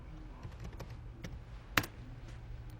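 A username is typed on a computer keyboard: a light, irregular patter of key taps close by, with one sharper, louder press near the end against a low background hum.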